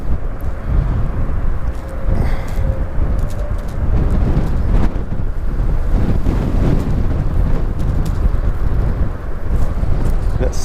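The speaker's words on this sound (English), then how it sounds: "Pretty daggum windy." Strong wind buffets the microphone continuously on a pond bank among old cattails, a loud low rumbling roar with gusty fluctuations throughout.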